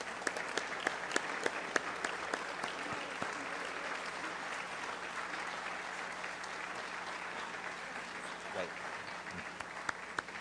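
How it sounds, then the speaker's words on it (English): Rotary Club of Denver audience applauding in memory of a member, a steady sustained clapping from a full room with a few sharp nearby claps standing out. "How about a round of applause in memory of Donna?"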